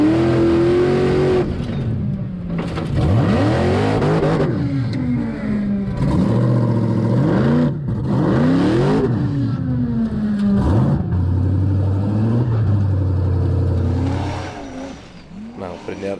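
A Formula Offroad race car on paddle tires at an Icelandic competition in Egilsstadir roars and revs hard, engine pitch rising and falling repeatedly across the whole stretch, with excited commentary running underneath.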